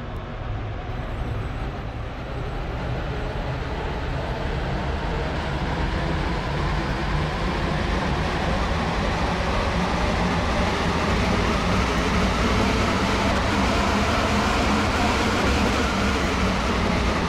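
Steady rumbling run of a passenger train in Stepford County Railway, a continuous loud rolling drone with rail noise building gently over the whole stretch, no voices heard.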